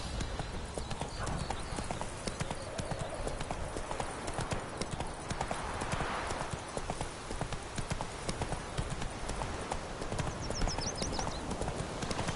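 Hooves of the horse Roach clip-clopping at a steady, brisk rhythm across open ground in The Witcher 3, close and continuous with faint ambient game sound behind.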